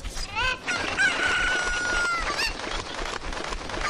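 Rooster crowing from Zelda: Ocarina of Time, a bright, warbling cock-a-doodle-doo that rises and falls over layered game music and effects, loud and up close.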